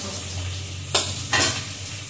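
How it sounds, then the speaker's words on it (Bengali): Onions frying in a pan hiss with a steady sizzle, broken by two short, sharp scrapes of a spatula stirring them close by. "দেখি কত দূর ভাজাটা হলো। ভাজাটা অনেকটা হয়ে এসেছে। পেঁয়াজ, এই যে পেঁয়াজ ভাজাটা"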